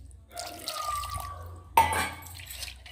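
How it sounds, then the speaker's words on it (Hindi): Water poured into a mixer grinder jar in a home kitchen while cooking shahi bharta, a quiet trickle with a sharp splash partway through, then a softer run of liquid. "अभी मिक्सी के जार में हम थोड़ा पानी डालेंगे"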